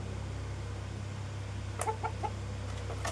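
A fighting-cock type rooster, a large breed kept at home, gives a few short clucks close by over a steady low hum, with no talking.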